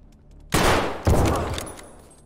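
Gunfire in the video game Escape From Tarkov, set in the Customs raid: two loud, sharp bursts about half a second apart, each leaving a reverberant tail, with no talk.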